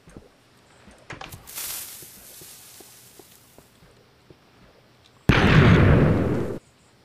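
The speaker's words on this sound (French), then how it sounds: "il y a quelqu'un qui a explosé" A loud, close explosion of someone being blown up in a video game bursts out as a roaring blast lasting over a second, after quieter thuds, footsteps and a whooshing rumble.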